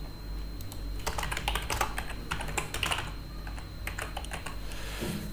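Rapid clicking of a computer keyboard as code is typed, uneven bursts of keystrokes close up over a faint steady hum, no talk.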